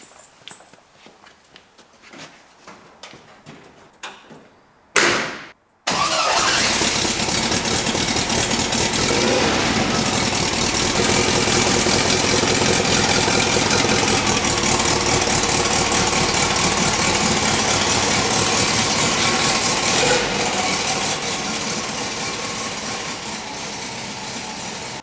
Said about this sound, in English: Let's see if the bus starts and drives.